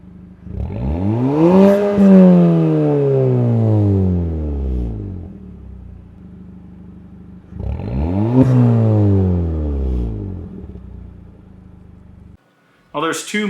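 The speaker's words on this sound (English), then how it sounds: "Just note that the exhaust will be very aggressive and loud." A 2021+ Mazda 3 Turbo with an 80mm cat-back exhaust revs hard twice, each rev swelling to a loud roar and then slowly winding down, with a short clatter at the very end.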